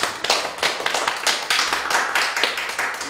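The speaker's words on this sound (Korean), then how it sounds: "다시 한번 큰 박수 부탁드리겠습니다." Audience applause at a charity concert, a few seconds of steady, fairly close hand clapping in a crowd, with no talking over it.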